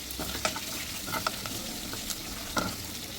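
Onions sautéing in a pan for a Kerala home-cooked dish, a steady close sizzle and frying hiss with a few scraping stir strokes of a spoon, no talking.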